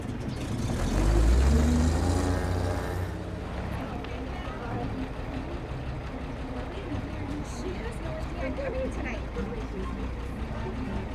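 A car engine rumbles loudly at first, swelling to a peak and then easing into a steady idle that runs beneath conversation for the rest of the scene.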